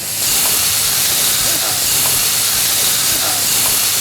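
Shrimp sizzle in a pan of wine and melted butter, a steady loud hiss running throughout with a few faint clinks on top.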